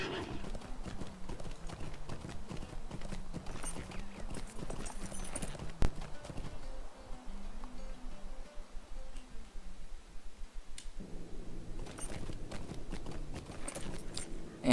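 A horse's hooves clip-clop steadily while riding in Lord of the Rings Online, a continuous rhythmic trot with jingling tack over background game music, and no one talking.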